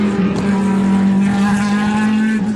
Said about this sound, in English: one of the real benefits of Le Mans racing, that the cars all sound remarkably different